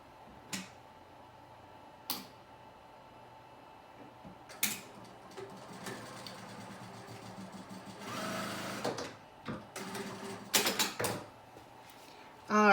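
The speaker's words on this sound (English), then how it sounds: "I'm going to head over to the sewing machine, sew this up for us" A sewing machine sews a seam on fabric for bias tape, with scattered clicks and taps before a short whirring run of stitching, all fairly quiet and close.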